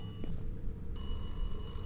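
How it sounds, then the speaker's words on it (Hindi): A telephone rings inside a creepy house in the Kamla horror video game, a steady electronic ring that cuts in partway through over a low rumbling ambience, with no one speaking. "किसका फोन आ रहा है भाई कौन फोन कर रहा है"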